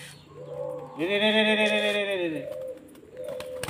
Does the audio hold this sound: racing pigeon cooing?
yes